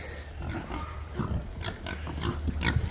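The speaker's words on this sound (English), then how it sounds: "Yeah, big fat pigs." Pigs grunting and snuffling up close, a run of short low grunts mixed with rustling movement, fairly steady throughout.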